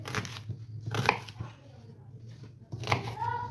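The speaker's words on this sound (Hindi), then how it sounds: "हम लोग इस तरह से छोटे छोटे पीसेस कर लेंगे" Knife chopping an onion into small pieces on a board for a school lunch, a few irregular close cutting taps with quiet gaps between them, no talk over them.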